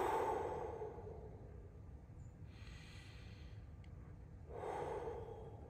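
Slow, deep breathing during a foot self-massage with an acupressure tool: long airy exhales and inhales rising and falling close to the microphone, soft and steady, with no talking.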